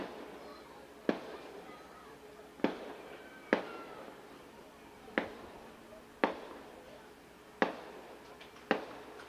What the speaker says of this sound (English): Taken high with fireworks just above the right field foul pole.